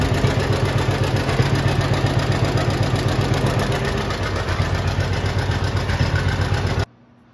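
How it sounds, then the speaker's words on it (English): John Deere 50 tractor engine running at a somewhat high idle, a steady, close, rhythmic mechanical chugging that runs alone for about seven seconds, then cuts off abruptly. "with the tractor running at somewhat of a high idle"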